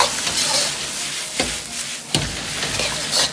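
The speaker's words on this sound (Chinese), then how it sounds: "接着倒入鸡蛋" Beaten egg hits a hot wok after garlic sprouts and wood ear mushrooms, bursting into loud steady sizzling with two sharp clatters of a spatula stirring, close up and free of talk.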